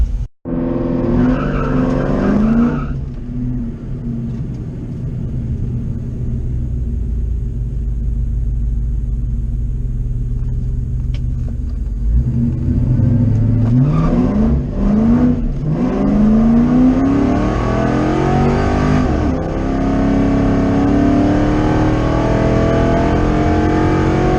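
A drag race car launches hard down the strip, its loud engine roaring and revving up through the gears while the tires squeal and spin, with a steady, powerful rumble throughout and no talking.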